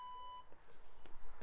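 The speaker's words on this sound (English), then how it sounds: "Darren, start the timer." A workout interval timer gives a single short, clear electronic beep at the start of a low/high-impact HIIT session, followed by faint room noise.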